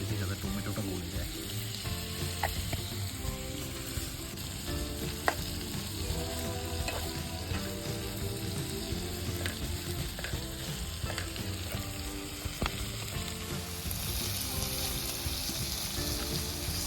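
Green, red and yellow chillies with tomatoes sizzling in a pan, a steady dense frying hiss with faint stirring scrapes running throughout, close and continuous with no talking.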